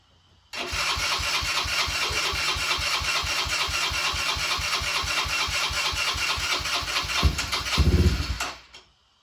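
A Raptor 90 ATV engine, just fitted with a replacement carburetor, cranks and catches on choke, settling into a steady, rapid idle that stays loud and close, revs up briefly near the end and then cuts off.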